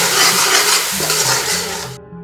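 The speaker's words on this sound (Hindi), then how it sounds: "कुटा हुआ गरम मसाला पिसा हुआ को डाल के अच्छी तरह भुनाई कर लेते हैं।" Spices with dry coriander and crushed ground garam masala fry in a karahi for potato karahi, a loud, dense sizzle with stirring scrapes that cuts off abruptly near the end, no talking.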